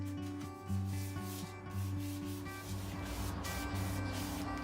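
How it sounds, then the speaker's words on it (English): Continuous rough scratching of 120-grit sandpaper rubbing across a wooden vintage vanity in repeated strokes, close by, with a steady electrical hum underneath. "Now I'm sanding everything with 120 grit to prep it for staining."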